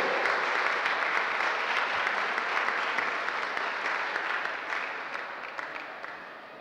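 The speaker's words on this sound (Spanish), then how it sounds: "El aplauso fuerte." Loud, steady applause from a crowd welcoming the Bravos de Nuevo Laredo, a third-division football team from Nuevo Laredo, at their official presentation; dense clapping holds throughout and eases slightly toward the end.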